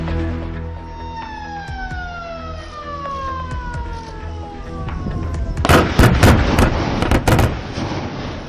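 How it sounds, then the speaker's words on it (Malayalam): A descending warning siren wails across the Wayanad tunnel construction site, followed by a burst of loud, rough blasting noise that rumbles and crackles for a couple of seconds before easing off. "ഫസ്റ്റ് ബ്ലാസ്റ്റ് സ്വിച്ച് ഓൺ ചെയ്ത് മുഖ്യമന്ത്രി."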